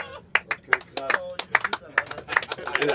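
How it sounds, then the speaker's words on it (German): A few people clapping after a joke, sparse and uneven hand claps close by, with voices talking over them throughout. "Ein bisschen mehr Applaus jetzt mal"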